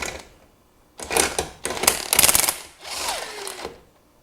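Ratchet wrench loosening a nut and washer from a bolt on a 2000 Ford Super Duty flatbed, heard as three bursts of rapid clicking close by, separated by short pauses, with no talk.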